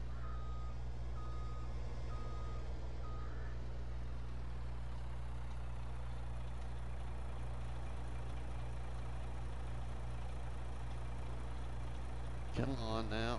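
Reversing beeps from a truck in Farming Simulator 22: steady evenly spaced beeps over a constant low engine drone, fading after a few seconds while the engine hums on.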